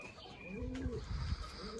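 Soft low cooing of racing pigeons close by, a couple of rounded throaty coos over a faint background hum.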